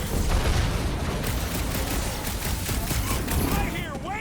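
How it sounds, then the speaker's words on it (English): Dense, continuous gunfire and explosive blasts in the Guardians of the Galaxy video game, loud and close throughout, with rapid overlapping shots and a voice speaking underneath. "I hear way too much shooting."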